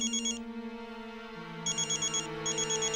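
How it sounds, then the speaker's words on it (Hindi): A mobile phone ringtone plays in a Hindi television drama scene, a loud electronic melody with repeating pulsed chimes running throughout, with no talk over it. "अरे क्या पता कोई पैसे देने के लिए फोन कर रहा, उठाओ"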